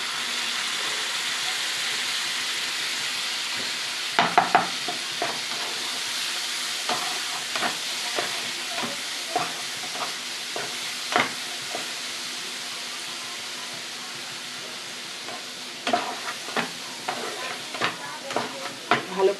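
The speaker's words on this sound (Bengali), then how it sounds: "ভালো করে মশলাটাকে কষিয়ে নেব।" Spice paste with yogurt is stir-fried in a pan for a Bengali papaya 'paneer' dish. A continuous close sizzle runs throughout, broken by intermittent scraping clicks of a spoon stirring against the pan.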